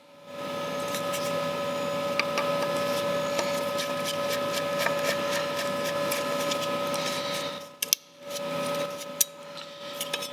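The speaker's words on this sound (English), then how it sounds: "It's a simple matter of undoing these screws and fitting it to the side of our box." Screws are undone from a control module during a Toyota Hilux dual-battery install. A close, steady motorized whir runs for about eight seconds, then cuts out and is followed by a few small clicks and taps.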